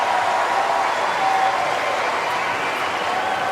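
Tennis crowd at the Australian Open applauding the players in a match, a dense, sustained wash of clapping from a large stadium audience, steady throughout.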